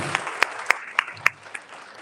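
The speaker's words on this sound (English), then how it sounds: "for a round of applause." A small audience at a live talk gives a brief, sparse round of applause: a handful of distinct claps at an even pace, fairly quiet and fading out quickly.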